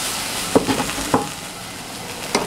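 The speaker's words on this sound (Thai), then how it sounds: "เดี๋ยวเราจะคั่วนะคะพริกกระเทียมนะคะ แล้วก็หอมแดงนะคะ" Chilies, garlic and shallots are dry-roasted in a pan for a shrimp chili paste. A soft sizzle runs underneath, and a few sharp scrapes and clinks from stirring punctuate it, close up and with no voices.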